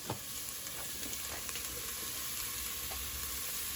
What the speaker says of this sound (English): I'm sauteing the onions